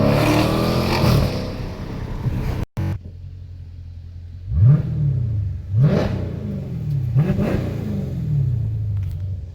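A 2019 Dodge Challenger Scat Pack Widebody with its mid muffler deleted revs loudly on three downshifts, each a sharp rising blip spaced a second or so apart over a steady deep exhaust drone, with no talking.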